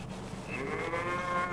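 Dairy cows grazing on ryegrass and timothy pasture give one long, drawn-out moo that swells and holds, close and clear over a low background rumble.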